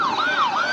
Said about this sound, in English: I'll let the ambulance go by in a second.